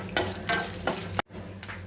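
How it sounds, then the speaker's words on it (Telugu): Green chili slits frying in a pan for coconut rice: a steady sizzle with several scraping stirs of a spatula, close and fairly loud, then a short break before the frying resumes. "అలాగే పచ్చిమిర్చి చీలికలు కూడా యాడ్ చేద్దాం. ఫ్రై చేసుకోవాలి మంచిగా."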